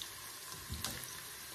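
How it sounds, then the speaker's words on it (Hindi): Water poured from a cup into a cooking pan holding browned onions and peas for matar pulao, a soft splashing pour that swells briefly, moderately faint and close, with no talk. "जैसे ये ब्राउन होगा हम इसमें मटर शामिल करके और 1 कप पानी डाल देंगे।"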